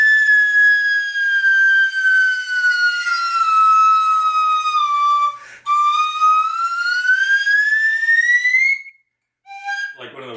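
A flute plays one long sustained note that slowly bends downward and then glides back up in bansuri style, bright and close, followed by a brief pause and a short higher note.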